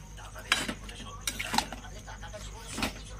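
A lid goes onto a cooking pot of thin mutton curry with tomatoes, giving a few sharp metallic clinks and knocks spaced over a couple of seconds against a quiet kitchen background.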